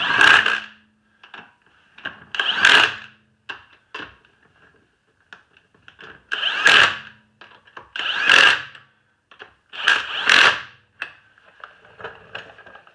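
An impact wrench snugs up the wheel lug nuts on a 2006–2011 Chevy Impala during a front strut replacement, firing in about seven loud, close bursts of rapid hammering, each a second or so long, with quiet pauses between them.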